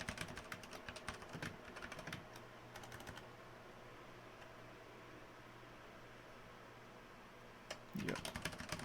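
Code is typed on a computer keyboard in rapid, uneven clusters of close clicks, then a long lull of faint room hiss before another quick flurry of keystrokes.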